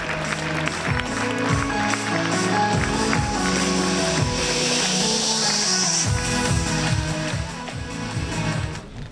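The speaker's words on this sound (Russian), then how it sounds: "Под ваши аплодисменты." Audience applause fills a hall at a film presentation as the Russian distributor of the film is invited on stage, a dense, steady clapping that holds for the whole stretch over a bed of music.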